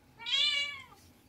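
A kitten gives a single clear, drawn-out meow close by, rising and then fading, set against a quiet room.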